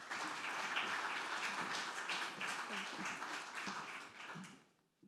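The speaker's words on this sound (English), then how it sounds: "Please join me in a round of applause to welcome Her Excellency." Audience at a bootcamp closing ceremony applauding to welcome an ambassador, a fairly quiet, continuous patter of clapping that holds steady and then fades out near the end.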